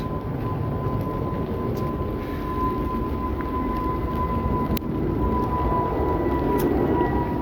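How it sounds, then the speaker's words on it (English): Airplane passing overhead on the Heathrow Airport flight path, a loud, continuous broadband roar with a faint steady whine, heard from outdoors on a woodland walk with no talking. "This is right above the flight path for Heathrow Airport, so the audio might be a bit disturbed by a giant metal tin can flying above"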